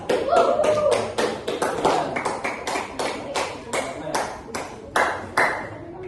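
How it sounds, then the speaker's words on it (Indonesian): A classroom audience of students claps after a group presentation, a run of distinct, fairly loud separate claps rather than a dense roar, spaced irregularly and fading by the end. "Tepuk tangan."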